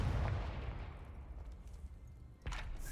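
A Confringo spell explosion in the video game Hogwarts Legacy: a deep, booming blast opens and rumbles away, followed later by a second sharp, bright burst.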